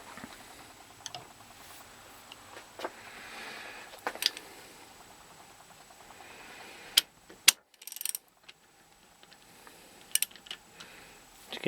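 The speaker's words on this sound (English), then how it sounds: "then put the ratchet on" Ratchet clicking quietly as a spark plug is tightened on a Kawasaki ZZR1100, faint short ratcheting bursts and sharp metallic ticks scattered across a quiet workshop.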